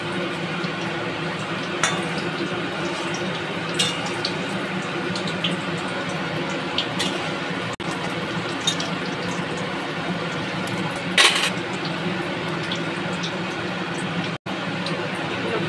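Banana flower chops frying in oil, a steady bubbling sizzle that runs throughout with occasional sharper pops and crackles, close and even in level.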